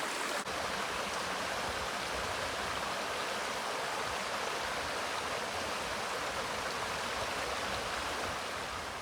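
A creek in Bothe State Park flows steadily with a dense, even rush of water, close and constant throughout with no talking.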